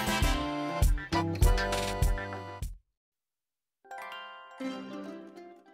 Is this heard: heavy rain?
no